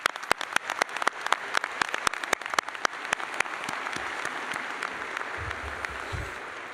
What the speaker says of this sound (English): let's give a big round of applause to Iowa State University's College of Veterinary Medicine.